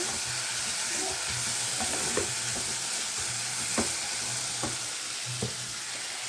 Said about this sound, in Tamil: இப்போ எடுத்து நல்லா கிண்டி விட்டு